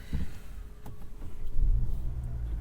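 A 2021 Hyundai Elantra's engine turns over and catches, settling into a low rumbling idle close by.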